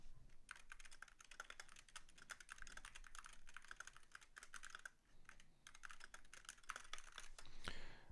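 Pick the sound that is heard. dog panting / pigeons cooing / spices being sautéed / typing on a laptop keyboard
typing on a laptop keyboard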